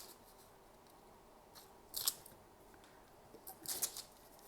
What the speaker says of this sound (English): careful cutting these out